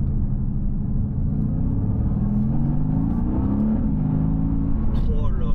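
A Mercedes-AMG GT V8 accelerates with a deep, loud, close rumble, and its tone climbs steadily as the revs rise. Sharper noises join near the end.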